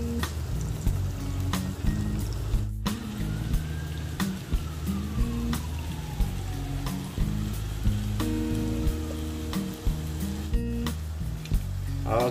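Cempedak fritters frying in oil, a continuous bubbling sizzle with scattered crackles and pops under steady background music.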